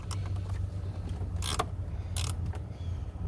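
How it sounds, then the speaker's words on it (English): A small lever on a car battery terminal clamp is flipped during a battery change on a 2014 Nissan Murano, heard as close, faint mechanical clicks and creaks over a steady low hum. "let's flip the little lever on it"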